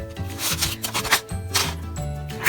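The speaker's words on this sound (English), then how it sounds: "I'm gonna sand this a little more." Carved wooden popper being sanded by hand, quick rhythmic back-and-forth scratchy strokes, close and dry, several passes in a short burst with no talking.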